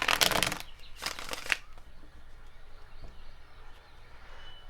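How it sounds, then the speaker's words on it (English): Tarot cards are riffled and shuffled up close in several quick crisp bursts, followed by quieter handling and a soft background hush. "I'm going to shuffle some tarot"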